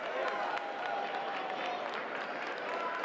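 A home crowd of Shallowater fans in Wolford applauds steadily as a player leaves a girls' 3A regional semifinal basketball game, with a broad, even wash of clapping and crowd noise throughout.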